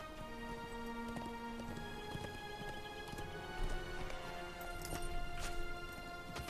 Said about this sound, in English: Fallen rider and a horse in the distance.